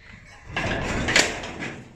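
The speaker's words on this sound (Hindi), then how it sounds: "हटो, मैं दरवाजा खोल दूँ।" A house door is pulled open with a rushing, scraping sweep that starts abruptly midway and peaks in a brief rattle, fairly loud and close.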